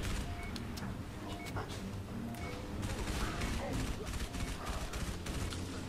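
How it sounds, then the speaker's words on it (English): Gunfire in the Halo 3: ODST video game comes as a dense, continuous barrage of rapid shots and explosions at a steady loud level throughout. "I'm not exactly sure if he was the one shooting me or not."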